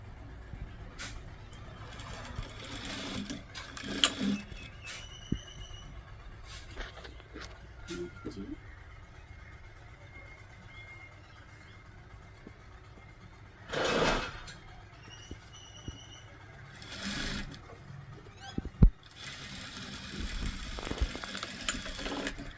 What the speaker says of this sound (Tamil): இதை மடித்து இதை வந்து நாங்கள் தச்சு விடுவோம் அப்படி.